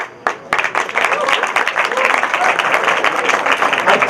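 A crowd at a Paryushan gathering breaks into loud, lively clapping after a short pause, the applause continuing densely and evenly right to the end.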